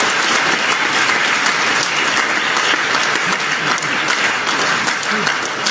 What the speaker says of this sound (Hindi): समझ में आया तो ताली बजाओ